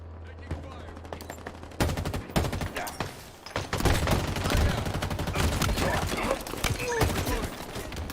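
Rapid automatic gunfire from Halo Infinite multiplayer, loud and dense bursts of shots crackling almost continuously after a brief lull, with game sound effects and a faint voice mixed in.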